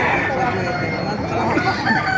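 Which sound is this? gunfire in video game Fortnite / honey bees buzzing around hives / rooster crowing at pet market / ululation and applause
rooster crowing at pet market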